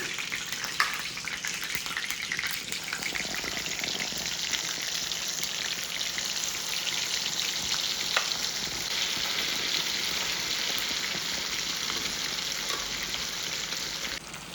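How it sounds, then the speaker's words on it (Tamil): Chicken 65 deep-frying in hot oil, a steady, dense sizzle with bubbling crackle that holds at an even, close level throughout with no talking. "இந்த 65 வந்து பொரிச்சு எடுத்துக்கலாம்."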